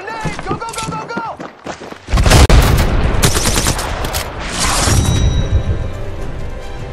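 A grenade blast in the Apex Legends battle royale on Nintendo Switch, season 18, lands as a heavy low boom mid-clip amid scattered gunfire and busy game noise, with people shouting over it.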